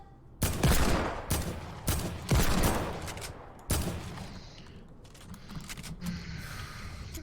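Rapid gunfire bursts in a first-person video game shooter with shields, several loud close volleys in quick succession followed by quieter, more distant shots.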